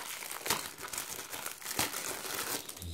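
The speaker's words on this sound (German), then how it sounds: "So, Folie ab." Plastic shrink wrap crinkles and crackles continuously as it is peeled off a DVD case, close and steady, with two sharper tearing snaps along the way.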